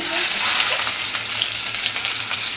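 Ginger and fenugreek seeds frying in hot oil for a Kerala fish pickle, giving a steady, loud, close sizzle with crackling bursts throughout and no talking.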